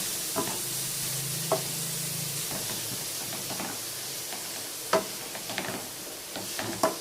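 Beetroot tossed into browned onions frying in oil, with a soft continuous sizzle broken by sharp clicks and scrapes of a spatula stirring against the pan.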